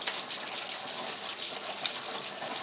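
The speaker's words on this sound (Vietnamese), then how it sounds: "Cái nước thải để xuống đây đấy." Waste water pours steadily from a discharge pipe into a stream feeding a polluted lake, a continuous broadband rush with no pauses, close and fairly loud for the whole stretch, with no speech.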